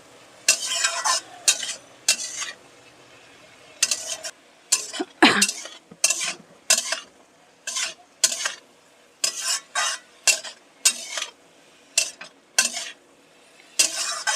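Amaranth greens with chickpeas being stirred in a pan, a rhythmic series of close scraping strokes over a soft frying sizzle, repeating roughly every half second to second.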